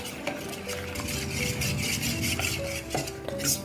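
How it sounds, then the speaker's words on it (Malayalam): A spoon stirs and scrapes around a bowl, with small clinks against the sides as ragi flour and water are mixed into a lump-free paste, close and steady. "നമുക്ക് ഇത് കുറച്ച് വെള്ളം ഒഴിച്ചിട്ട് കട്ടയില്ലാത്ത രൂപത്തിൽ നമുക്കത് നന്നായിട്ട് മിക്സ് ചെയ്യാം"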